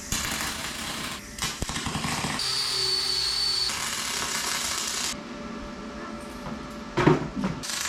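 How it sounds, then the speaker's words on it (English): Power drill boring bolt holes through the floor of a DIY camper van conversion, a steady loud whine running for several seconds with a sustained high tone, then stopping, followed by a few clunks. "the holes for the new cabinet base are drilled through"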